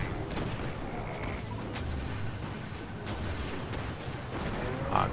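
Rocket launcher fire in the sci-fi shooter Destiny, in a Prison of Elders arena fight against machine enemies: dense, continuous explosive rumble with crashing blasts and whooshes, and a sharper burst near the end.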